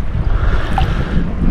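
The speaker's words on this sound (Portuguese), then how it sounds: "Tá ventando." Steady, loud wind buffets the microphone on a river during a tucunaré fishing trip, a continuous rumbling gust with no pauses.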